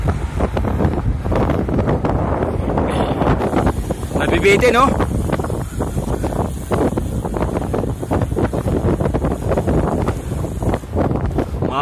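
Gusty wind buffets the microphone with loud, steady rumbling, while a voice talks briefly over it outdoors.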